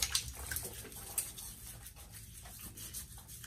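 Water splashing and rubbing as a face is wetted before a shave, with quick close wet patters and rustles, fairly quiet and irregular, no talking.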